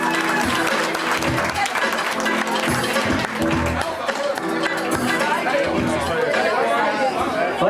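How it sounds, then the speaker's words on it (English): A stand-up comedy club audience claps and murmurs as a comedian comes to the stage, with steady dense applause mixed with crowd chatter and voices throughout. "Thank you all for clapping the second time he said my name."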